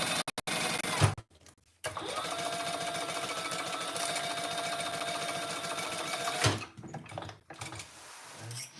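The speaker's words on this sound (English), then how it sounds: "let's sew this together" Domestic sewing machine stitching the bottom seam of a garment at the pattern's seam allowance, a long steady rapid run of needle clatter with brief starts and stops at either end.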